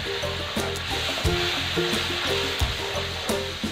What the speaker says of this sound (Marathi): आता आपले मसाले जळू नये म्हणून मी त्यामध्ये अर्धी वाटी पाणी टाकून घेणार आहे।